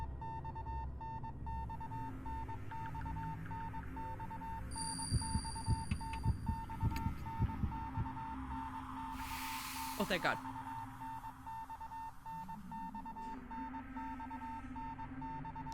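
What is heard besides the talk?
repeating Morse-code-like beeping from video game Spirit Hunter: Death Mark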